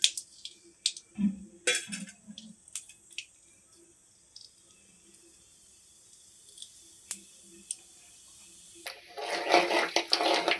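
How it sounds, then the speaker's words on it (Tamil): Mustard and fenugreek seeds splutter in hot oil with scattered sharp pops and crackles bursting irregularly, then a louder hissing sizzle swells near the end. "கடுகு வெந்தயம் நல்லா பொரிஞ்சிக்கிட்டு இருக்கு"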